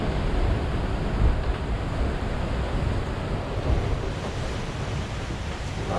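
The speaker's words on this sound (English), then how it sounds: "Sea's pretty freaking mixed up." Rough, mixed-up sea rushes past a sailing boat running fast down swells, a loud continuous wash of waves and wind noise buffeting the microphone, with no talk.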